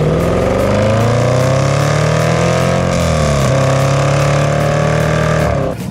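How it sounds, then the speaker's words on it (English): The supercharged 5-liter V8 of a Range Rover Sport SVR drones loudly and steadily up close, its pitch easing gently up and down before cutting off abruptly at the end. "it has a supercharged 5-liter V8 engine under the hood"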